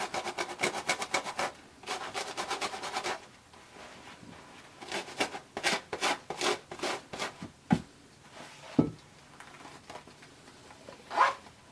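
Denim fabric for a McCall 6361 sewing project is abraded by hand to distress it, giving repeated rasping, zipper-like scrapes in quick strokes. Bursts come in fast rhythmic runs, close and fairly quiet, with brief pauses between.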